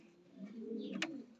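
Racing pigeon cooing, a low soft continuous coo close by, with a brief sharp click near the end.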